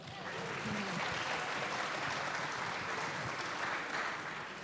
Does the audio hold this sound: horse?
no